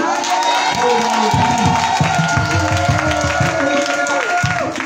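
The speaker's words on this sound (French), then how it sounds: "On peut acclamer le Seigneur, acclamer le Seigneur." A church congregation cheers and acclaims the Lord with loud, dense crowd shouting, whoops and some clapping, sustained and close throughout.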